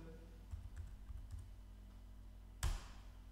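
Soft, faint keystrokes tap out a short command on a computer keyboard, a few quick clicks followed by one louder keypress near the end, alone in a quiet room.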